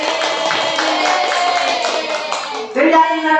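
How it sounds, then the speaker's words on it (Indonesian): A classroom of students claps together in a dense, steady burst that runs the full length, with a brief louder swell near the end. "Tepuk tangan buat itu."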